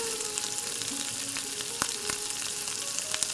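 Hot oil and ghee sizzle in a pressure cooker as whole spices such as cloves, cardamom, cinnamon and bay leaf fry, giving a steady close crackle with occasional sharper pops.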